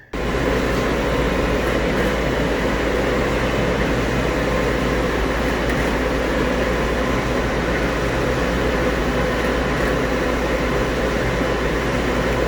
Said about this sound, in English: Printing up some stickers on the HP Latex 54-inch prints.